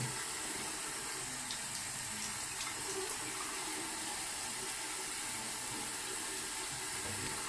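Tap water runs steadily into a sink as a toddler washes hands, a constant soft rushing wash throughout with faint splashes and no pauses.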